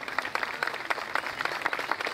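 Applause in memory of a departed friend at an outdoor parade and riding event in Cardal, a quiet, somewhat distant patter of clapping that lasts about two seconds.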